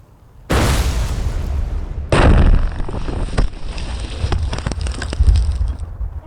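An explosive ordnance disposal demolition charge detonates with a sudden loud blast, then a second heavier boom follows, trailing into a long rumbling roar with debris patter that fades slowly.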